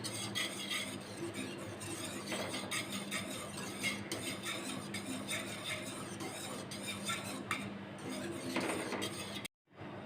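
A spoon stirs thickening milk and cornflour in a pot, scraping and clinking steadily against the metal up close with a faint simmering hiss underneath. It stops abruptly near the end. Nobody speaks.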